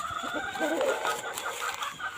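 Chickens on a Thai home farm cluck and call close by, with a rooster's crowing threaded through the busy, layered poultry chatter.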